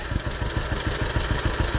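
A farm engine with only about five hours of use idling unsteadily, a close, loud rhythmic chugging with a rapid pulse and metallic clatter throughout.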